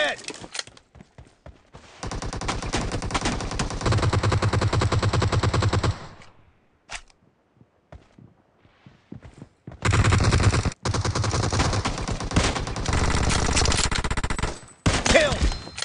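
Gunfire in the mobile battle royale game PUBG Mobile: scattered single shots, then two long sustained bursts of rapid automatic fire, loud and close, separated by a brief lull with sparse shots.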